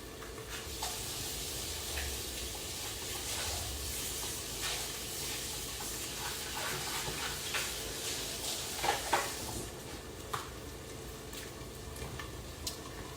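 Spinach for meatless Efo Riro steams and sizzles in a pot with a soft, steady hiss, broken by faint crackles and a few light clinks, quiet and close.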